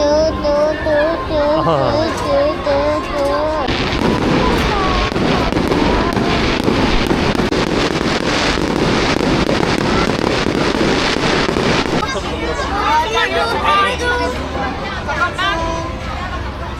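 Fireworks bursting at night at Seoul Land amusement park, a dense run of loud overlapping bangs and crackles through the middle, with crowd chatter and voices talking before and after.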